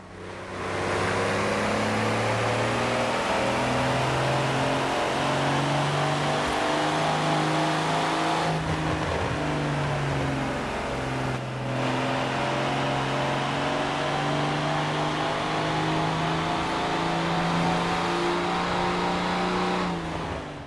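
A synthetic-sounding Mini car engine in Forza Horizon 4 revs hard and climbs in pitch, with brief dips between gear changes, loud and continuous throughout.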